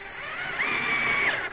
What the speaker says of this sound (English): I'm gonna go ahead and drill in